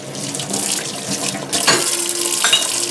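Kitchen tap water running over a knife as it is washed after making bean stew, a steady close splashing stream with brief louder splashes near the end, no talking.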